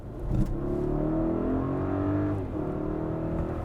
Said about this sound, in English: You floor it.